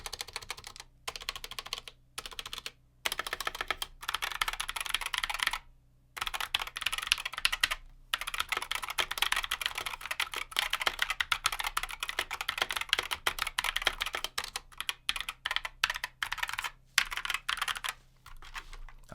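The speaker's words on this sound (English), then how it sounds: "Over here with the regular keycaps is our optical one." Steady close typing on a TKL keyboard with optical switches and regular keycaps, a quick clatter of keystrokes broken by a few short pauses, with no voices.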